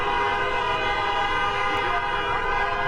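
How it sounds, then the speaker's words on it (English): A car horn blares in one continuous loud tone in support of protesters marching on a Portland street, filling the whole stretch without a break. "The honks of support from cars."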